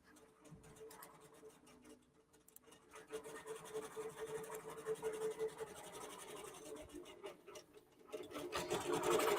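A QBOT computerized quilting machine stitches across a quilt with a steady, fine mechanical whirring and rasping that grows louder toward the end, heard alone without talk.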